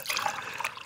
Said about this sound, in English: Oh, now I can just pour myself a cup of coffee.